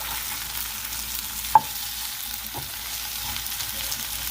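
Hash browns frying in a pan as they are flipped, giving a faint, steady sizzle with a sharp scrape or clack of a spatula partway through and a softer knock a second later, with no talking.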